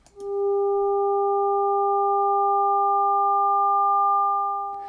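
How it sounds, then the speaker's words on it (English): A steady additive-synthesis tone sounds alone, with a pure fundamental and a few clean overtones held for nearly five seconds. The third partial grows stronger toward the end, brightening the colour before a short fade. "you can hear the sound brightening up at the end, and that's because the fundamental is strongest at first, and the third partial is strongest near the end of the sound"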